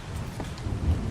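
Rain pours steadily with low rumbling thunder in the Ark survival game on the Crystal Isles map, a continuous, fairly loud wash of storm noise with no talking.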